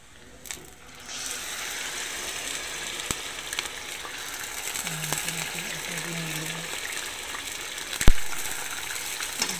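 Ground meat dropped into a hot pan with onions for Filipino giniling, a sudden steady sizzle of frying that carries on with a few sharp clacks of a utensil, close by, with a brief voice.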